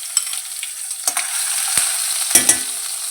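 Green chili and urad dal fry in hot oil for rava upma, giving a steady close sizzle broken by a few sharp stirring scrapes and clicks, with no voices.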